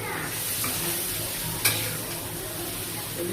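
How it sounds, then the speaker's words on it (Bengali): A hilsa fish roe curry is stirred together with its spices in a pan, a steady close sizzle with soft scraping strokes and one sharp clink of the utensil, no talking. "আমি এটা হালকা করে নেড়ে দেবো, সব মশলার সাথে নেড়ে দেবো।"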